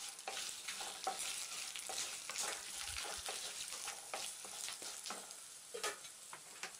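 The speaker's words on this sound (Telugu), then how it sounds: "ఇప్పుడు ఎండుమిరపకాయలను ఒక 2 లేదా 3 చిదుముకుని వేయించుకోవాలి." Two or three crushed dried red chillies fry in a pan for mango pulihora, a soft close crackle with irregular stirring scrapes and little pops, fairly quiet, with no voices.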